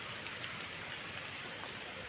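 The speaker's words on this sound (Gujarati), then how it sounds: "બહાર અહીંયા પાણી બહુ જાય છે." Water rushes outside a rural home, a steady, even hiss of flowing water close by with no breaks and no voices.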